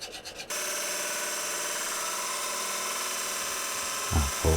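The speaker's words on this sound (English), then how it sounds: "Get a file and we'll file it down to the lines" Hand file working down cut marks on a metal workpiece held on a lathe, giving a close, continuous rasping scrape that runs steadily for several seconds before a brief knock at the end.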